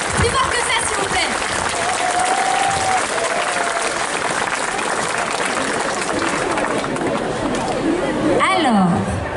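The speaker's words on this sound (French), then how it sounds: "Je pense qu'on peut lui refaire un tonnerre d'applaudissements parce que c'est son premier cosplay." Audience at a cosplay contest during the Vandoeuvre in Game 2021 convention gives a loud, sustained round of applause that fills the whole stretch, dense and steady, with a few cheers and voices mixed into the clapping.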